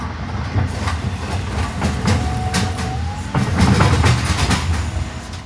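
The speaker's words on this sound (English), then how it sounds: "we ended up pacing this mainline train" A mainline freight train rolls alongside at close range, its wheels clacking rhythmically over rail joints under a steady heavy rumble, with a faint metallic squeal and a louder surge toward the end.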